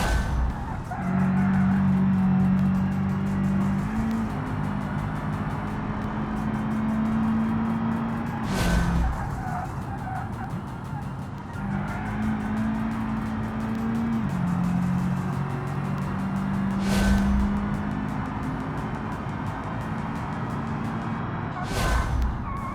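A car in the BeamNG driving game is pushed through a time trial, its engine droning steadily and rising and falling in pitch as it accelerates and shifts, with periodic sharp bumps or thuds from rough gravel.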